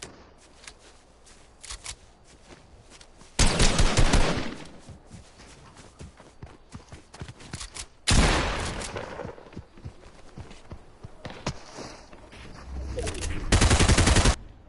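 Rapid bursts of video game gunfire in a snowman-versus-polar-bear battle, three loud dense volleys separated by quieter stretches of scattered clicks and shots.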